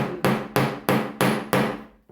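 Five evenly spaced, sharp hammer blows strike metal in a craft class, each loud ringing impact decaying quickly before the next, with no talk.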